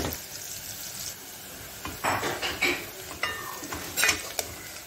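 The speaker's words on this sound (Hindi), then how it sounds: "प्याज को अच्छा लाल कर लेंगे" Onions frying in a cooking pot for an eggplant and fish curry, with a spoon stirring and scraping against the metal in uneven bursts over a steady low sizzle, close and moderately loud.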